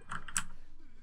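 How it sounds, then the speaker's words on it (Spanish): Brief burst of a few quick keystrokes on a mechanical keyboard, crisp and fairly close, heard alone. "el mío sí que suena mucho porque es un teclado mecánico"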